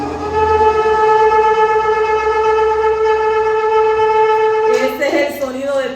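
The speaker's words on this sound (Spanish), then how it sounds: "Este es el sonido de terúa." A shofar blown for a teruah gives a loud, close, sustained tone for several seconds before a voice breaks in near the end.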